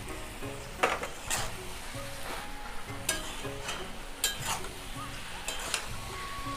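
Potatoes and banana flower frying in oil in a pan, stirred with a utensil: a steady sizzle runs throughout, broken by several louder scraping stirs, and soft background music plays beneath.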